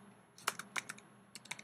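A computer keyboard types text in quiet bursts of several light, irregular clicks, with a short pause before a second cluster of taps.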